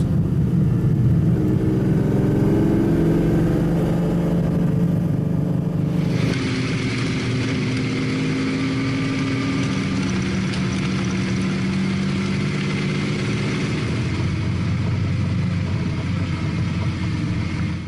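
Lamborghini Countach cars driving on the banking of a track, heard as a steady engine drone and road roar from inside a car, with the tone shifting partway through as the engine note changes.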